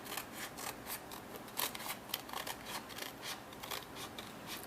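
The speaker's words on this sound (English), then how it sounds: "So I'm just going to line them up and trim them while they still have paper on the back." Scissors trimming paper pages for an envelope album make a run of quick, crisp snips in an irregular rhythm, close but quiet, with no talking.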